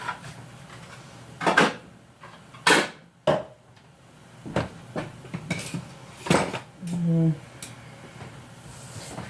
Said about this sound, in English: I'm going to cut it up in small cubes and place them in my pan